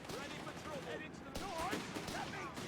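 Artillery and gunfire from the Company of Heroes 3 video game, British forces in a 1v1 match, rumble as a steady, fairly faint bed of battle noise beneath someone talking throughout.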